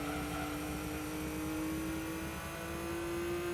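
Race car from the Gran Turismo 2 video game rolling around High Speed Ring, a steady engine whine that climbs slowly in pitch over a faint rumble, quiet and continuous with no talk.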